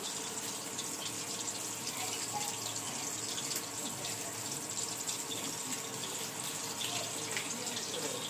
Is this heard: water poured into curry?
yes